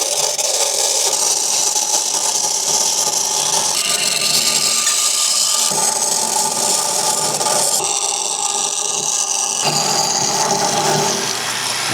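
Bandsaw with a 19-foot blade cutting billet metal, a continuous harsh scraping whine that shifts in pitch as the cut progresses, loud and alone.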